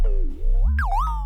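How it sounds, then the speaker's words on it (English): Ableton Echo with feedback turned down and its time knob being moved, bending a sustained tone downward then sharply upward and back in a warbling pitch sweep, alone and moderately loud. "then suddenly this time knob starts to just pitch bend everything"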